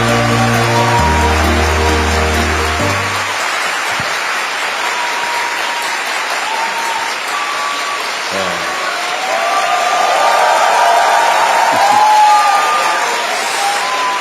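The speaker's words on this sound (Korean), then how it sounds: "여러분, 우리 대통령님 나오실 때 큰 박수로 환영해 주시기 바랍니다" At a lecture for public-service trainees, an audience welcomes the president with loud, sustained applause, cheers and whoops. It follows a short burst of music and swells again near the end.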